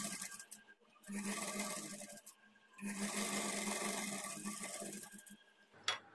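A sewing machine stitches a blouse in two sustained whirring runs separated by a short pause, moderately loud and close, ending with a brief sharp click.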